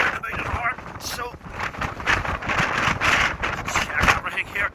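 Storm wind gusting up to 65 mph batters a Hilleberg tent at night, with loud continuous flapping and rumbling of fabric rising and falling in strong surges while someone talks over it.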